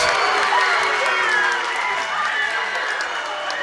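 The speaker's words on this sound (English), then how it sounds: "The West Memphis crowd is beside themselves." A basketball crowd at a high school game roars and claps after a double dribble call, a loud, dense cheer that eases slightly over a few seconds, with some speech in the mix.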